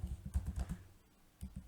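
Quiet, close keystrokes on a computer keyboard as a short command is typed, with a quick run of taps, a brief pause, then two more taps.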